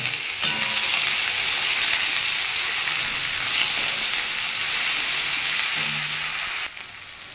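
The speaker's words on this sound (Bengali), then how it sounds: "ফোড়নটা আমার হয়ে গেছে, আমি এবার এর মধ্যে আদা রসুনের পেস্টটা দিয়ে দেবো।" Ginger garlic paste sizzles loudly in oil tempered with cumin for a green jackfruit curry, a dense, even frying hiss throughout with a couple of faint stirring knocks before it quiets at the end.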